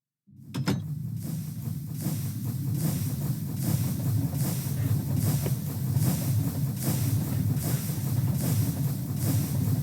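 A train from the Minecraft Create mod rumbles steadily, a loud continuous low roar with airy hiss above it that starts abruptly and holds for about ten seconds, with no talk.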